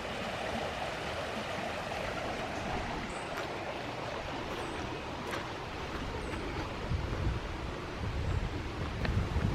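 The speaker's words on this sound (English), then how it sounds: "the creek is definitely booking again this morning" A creek running strongly in the morning beside a yard, heard as a steady broadband rush of flowing water from start to finish, with no voices.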